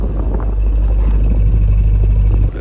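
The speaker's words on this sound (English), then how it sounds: "As you can hear the exhaust going." A deep, steady exhaust rumble from a nearby 2024 Bentley Continental GT, loud and low-pitched, with some wind buffeting across the microphone.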